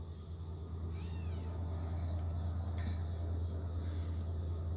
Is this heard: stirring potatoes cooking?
no